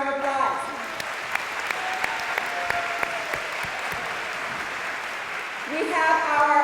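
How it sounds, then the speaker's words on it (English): An audience at a United High School athletic scholarship signing gives a steady round of applause, a dense, even patter of many hands clapping, with a voice speaking briefly at the start and end. "Let's give everybody a round of applause."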